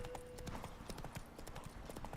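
Horse hooves clip-clop in The Witcher 3 in a steady, quick rhythm, faint and continuous, with a soft voice murmuring beneath.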